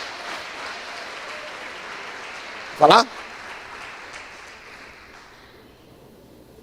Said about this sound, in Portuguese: Pode aplaudir a Jesus bem forte.